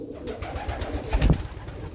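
Pigeons coo close by in soft, low, throaty pulses that swell briefly toward the middle, over quiet background rustle.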